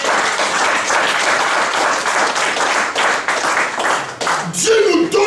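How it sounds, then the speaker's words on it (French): A church congregation applauds loudly to acclaim the Lord, steady dense clapping for several seconds before a voice returns near the end. "Est-ce qu'on peut acclamer le Seigneur s'il vous plaît?"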